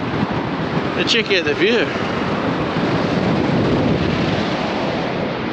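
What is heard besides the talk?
strong wind on coast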